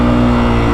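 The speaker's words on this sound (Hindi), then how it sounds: "इंजन की आवाज़ बढ़ रही है" A Hero Xtreme 125R motorcycle engine revs hard in low gear, a loud, close, steady droning roar in a brief burst under a second long, with no speech.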